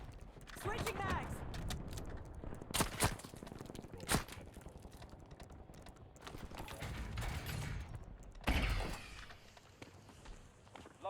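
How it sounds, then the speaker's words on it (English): Magazine swap during Call of Duty Warzone play on Rebirth Island, with quiet mechanical clicks and sliding metal handling sounds. Sharp clacks and game noise are mixed in, and a voice talks over parts of it. "Switching mags."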